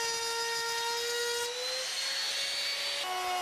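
A Bosch power tool whines steadily and loudly while cutting a groove for a drawer bottom in timber, its pitch shifting slightly as it works through the piece.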